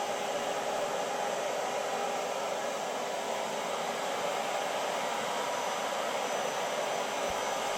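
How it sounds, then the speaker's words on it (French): A small electric Cecotec Triton 3-in-1 vacuum in leaf-blower mode runs continuously, a steady airy roar with a motor whine, unchanging and close. "Alors là on va tester la fonction souffleur de feuilles."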